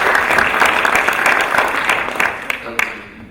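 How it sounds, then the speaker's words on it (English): Audience applause at an annual alumni conference in Kenya, a dense, loud wash of clapping that carries steadily, then thins and fades toward the end with a few scattered claps. "Let's give a round of applause for everyone who made this possible."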